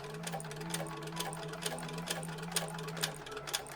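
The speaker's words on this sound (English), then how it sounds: "We'll be back stitching again and stopping where the piping starts." A sewing machine back stitches along the piping of a bag, running steadily for a few seconds with a continuous low motor hum and a rapid, regular needle clatter, close and fairly quiet.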